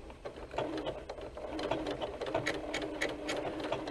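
A sewing machine with a 100 wing needle and an applique foot pin stitches lace, a steady close whir with a rapid rhythmic ticking running throughout.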